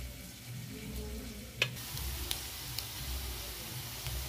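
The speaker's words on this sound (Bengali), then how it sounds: "পেঁয়াজটা দিয়ে দেবো, দিয়ে একটু ভেজে নেবো" Dried red chilli, whole cumin and onion fry in oil in a pan for a Bengali egg and red lentil dal, a steady close sizzle with a sharp clatter partway through and a few light ticks.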